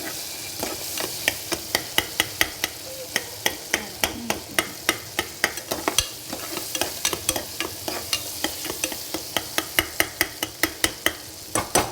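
Banana slices frying in hot ghee give a steady close sizzle, broken by frequent sharp metallic clinks of a spoon against the pan, with no talking.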